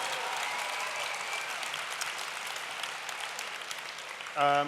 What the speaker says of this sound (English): that's worth a round of applause on its own